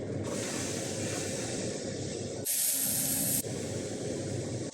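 A steak sears in butter in a pan, giving a steady close sizzle that briefly turns to a louder, sharper hiss before settling back.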